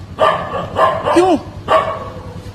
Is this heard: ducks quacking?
no